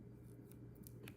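Scissors snip through a die-cut card piece, a few quick cuts standing alone over a steady background hum.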